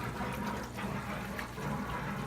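Water gurgles and rushes into an Eheim aquarium canister filter after its valves are opened, a steady close trickling and bubbling fill with no voices over it.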